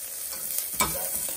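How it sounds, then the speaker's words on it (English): Garlic and wilting parsley stirred in a hot pan for marinara, a steady soft sizzle with a brief scrape of the spoon partway through, close and alone. "We stir that up."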